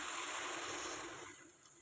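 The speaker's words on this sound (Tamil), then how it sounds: "காய்க்கு தேவையான தண்ணி ஊற்றிக்கலாம்" Steady broadband rush of water pouring into a pot of vegetables for Pongal kulambu, loud at first and then easing off slightly toward the end, with no voices.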